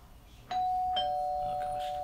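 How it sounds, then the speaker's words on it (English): Household doorbell chiming twice in quick succession, the second tone ringing out and sustaining clearly and loudly against a quiet room. "Doorbell's ringing."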